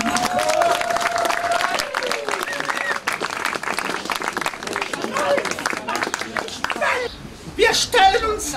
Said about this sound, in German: Ich bitte um einen großen Applaus